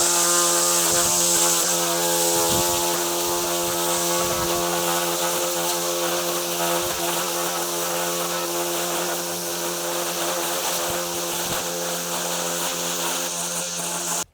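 A line trimmer, also called a whipper snipper or weed eater, cutting grass along an edge: a loud, close, high buzzing engine drone held steady, with its pitch shifting slightly and brief ticks as line strikes the grass.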